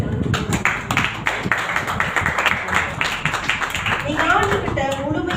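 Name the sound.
clapping for the Lord in church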